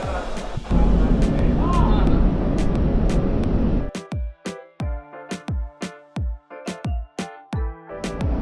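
Loud, steady drone of a WAP-7 electric locomotive idling near the platform at Sealdah with the Teesta Torsa Express, cut off after four seconds by a run of sharp, rhythmic clicks and thumps.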